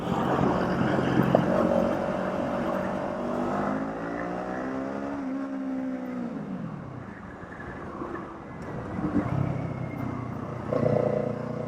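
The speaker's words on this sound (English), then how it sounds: "I think this exhaust is a great exhaust, and this is with the DB killer in it." A Kawasaki Eliminator motorcycle with an aftermarket exhaust fitted with its dB killer rides on a freeway, the engine note rising and falling through revs with a steady loud drone and wind.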